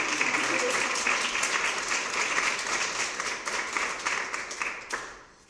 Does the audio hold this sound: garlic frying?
no